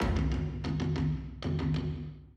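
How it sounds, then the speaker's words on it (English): Deep booming drums beat in a repeating rhythmic pattern, layered with sharper percussion hits that ring out and decay, with no voices. "I added some more tribal sounding drums using the same rhythm"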